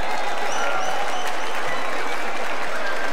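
Applause from a crowd for third-place winners at a Corso 2018 prize ceremony, a steady wash of many hands clapping for about three seconds with faint whistles or voices above it.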